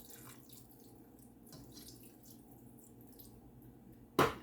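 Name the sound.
water slowly poured into casserole in Dutch oven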